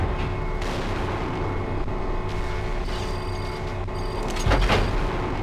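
A mech's weapon fires in the battle game MechWarrior 4. A dense mechanical roar carries throughout, with a sharp shot cracking out near the end.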